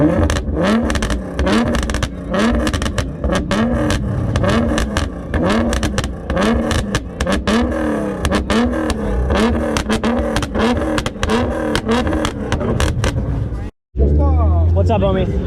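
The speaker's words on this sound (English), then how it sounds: "Keep on tapping the throttle. I got you. Yeah, just rev it" A Nissan 370Z Nismo engine revs over and over in loud, rising and falling bursts close by, with voices chattering in the background and a short cut near the end.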